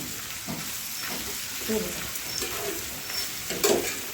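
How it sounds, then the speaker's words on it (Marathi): Chopped onions, four medium ones, sizzling in hot oil and being stirred in a pan, with a steady frying hiss and occasional soft scraping strokes. "आता हे चांगलं असं हलवून"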